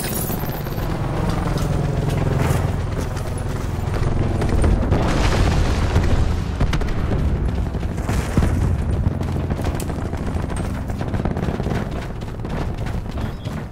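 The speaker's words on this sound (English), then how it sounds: "Deploying seeker mine." Seeker mine detonation in a shooter game: dense, sustained booming blasts and rumbling explosions fill the whole stretch loudly, with no talk.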